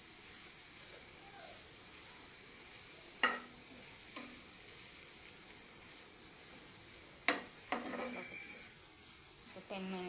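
Grated carrots frying in a pan for carrot halwa, a soft steady sizzle throughout with a few sharp clinks of a spoon against the pan, fairly quiet and close.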